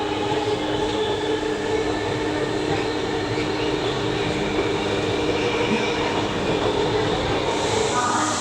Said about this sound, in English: the train had arrived